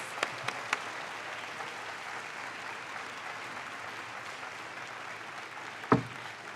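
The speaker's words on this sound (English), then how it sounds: "Let's give her and her team a big round of applause." Faint, steady applause from an audience at a mayor's 2019 State of the City address, a continuous soft patter with a few sharper claps near the start and one louder thump near the end.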